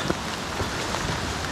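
Rain falls steadily outdoors during a long hike across Bulgaria, a dense, even hiss of drops with a few faint patters close by and no voices.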